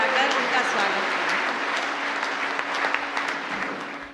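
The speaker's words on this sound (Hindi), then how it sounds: "आप लोग तुरंत एक बार जोरदार तालियां बजाकर उनका स्वागत करें।" Audience at a Holi comic poetry gathering giving a strong, steady round of applause to welcome a poet, dense sustained clapping lasting about four seconds.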